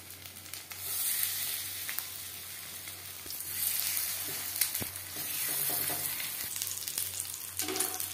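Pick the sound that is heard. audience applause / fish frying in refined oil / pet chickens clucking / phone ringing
fish frying in refined oil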